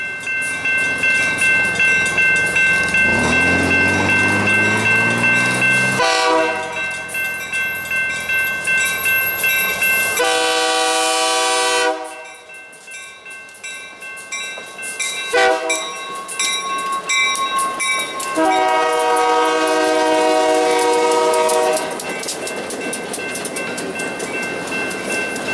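A Great Lakes Central Railroad train passes in northern Michigan, loud and close, with long blasts of its horn over the rumble of the engine and the rhythmic clatter of wheels on the rails.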